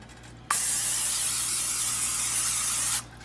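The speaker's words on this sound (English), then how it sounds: "you want to spray the pan so it doesn't stick" One continuous hiss of aerosol cooking spray onto a pan, close and fairly loud, lasting a couple of seconds before cutting off.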